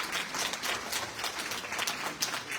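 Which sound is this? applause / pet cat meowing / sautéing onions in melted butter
applause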